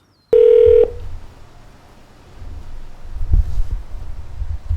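A single loud electronic phone tone rings for about half a second on an outgoing call, followed by quiet line hum and a faint click.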